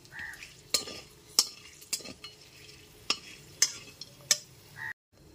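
Whole spices with bay leaf, cinnamon, cloves and cardamom fry gently in oil over a low flame, a soft sizzle broken by several sharp spoon clinks against the pan, close up with no talking.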